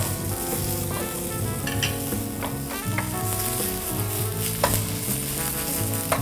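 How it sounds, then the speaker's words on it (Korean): Zucchini steak sizzles steadily as it pan-fries, a constant crackling hiss heard under background music. "노릇노릇 구워지는 게 보이나요, 여러분?"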